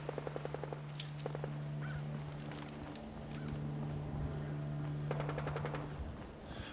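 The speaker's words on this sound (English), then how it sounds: "do we explore the sound of the gunfire" Rapid bursts of distant gunfire in the video game Fallout 4 come as quiet, evenly spaced cracks at the start and again near the end, over a steady low hum and ambient game noise.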